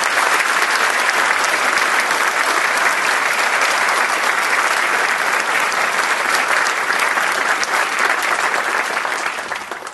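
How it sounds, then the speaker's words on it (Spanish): Loud, dense applause from a large audience welcoming a guest speaker, Hernando de Soto, to the stage, sustained and steady, then easing slightly at the very end. "acompáñenme a recibir con un caluroso y muy fuerte aplauso a don Hernando de Soto"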